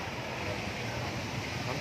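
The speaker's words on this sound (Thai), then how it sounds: "นี่น้ำตกนะคะ" A waterfall at Mae Kampong in Chiang Mai gives a continuous broadband rush of falling water, steady and fairly faint, with a little wind noise and no clear speech.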